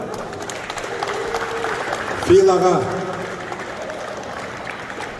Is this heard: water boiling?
no